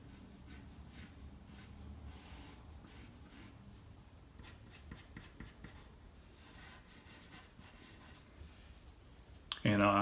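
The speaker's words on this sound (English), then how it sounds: "so I'll erase that and adjust it" A pencil eraser rubs back and forth across paper over a sketched hairline in short, steady scratchy strokes, close and fairly faint, ending with a brief louder knock.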